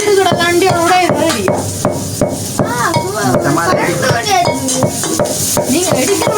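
A pestle pounds ingredients in a home kitchen at night in steady, repeated thuds, close and loud, while people talk and chat over the rhythmic beating.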